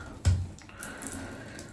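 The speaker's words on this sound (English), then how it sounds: "So squeeze all the excess water out." Water is wrung from wet dreadlocks with one short, close splashing gush at the start, followed by a faint trickle and drips.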